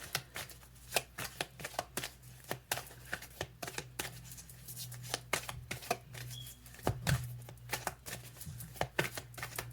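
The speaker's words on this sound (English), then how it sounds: "what they were telling me while I was shuffling." Tarot cards shuffled by hand in a quiet room, a steady run of crisp riffling slaps and soft flutters repeating close up, with a low hum underneath and no voices.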